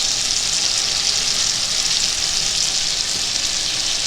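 Garlic, onion and tomato paste sauté in a hot pan for chicken breast menudo, giving a steady, even sizzle with faint stirring, close and continuous throughout with no voices.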